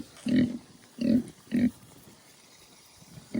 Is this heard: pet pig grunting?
yes